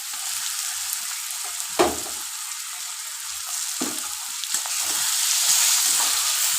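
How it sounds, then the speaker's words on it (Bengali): Chicken sizzles steadily in a hot pan, a hissing fry heard up close with a couple of brief clatters as it is stirred, the sizzle growing slightly louder toward the end. "এবার আমি এই অবস্থাতে চিকেনটা তুলে দেবো"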